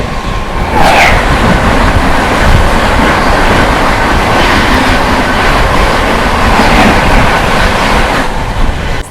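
Sampoorna Kranti express train No. 12393 running at speed past the Magadh Express at night, a loud, close, continuous rush of rolling wheels with rhythmic clickety-clack and faint metallic squeals throughout.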